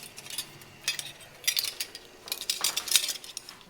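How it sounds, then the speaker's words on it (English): Metal lids and rings being fitted onto glass canning jars for pickled pearl onions, a series of close, light clinks and metallic taps in irregular bursts, without talk. "Okay, we're going to get our lids on, our rings on."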